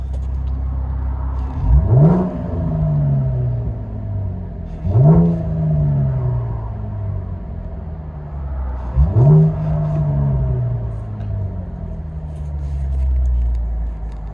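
Three separate revs of a 2012 Chevy Camaro RS V6 convertible with Vibrant resonators rise and fall over a steady low exhaust rumble, heard from inside the cabin.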